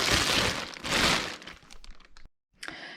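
Close crinkling and crackling of a plastic bag as a Recaro Mako Elite 2 child car seat is pulled out of its sturdy box, loud bursts of rustling fading to scattered crinkles, a brief silence, then another rustle.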